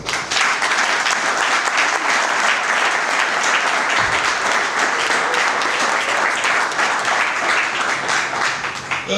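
Loud, sustained applause from an assembled wedding party at an official wedding ceremony in a hall, dense clapping filling the full length without a break and with no talk over it.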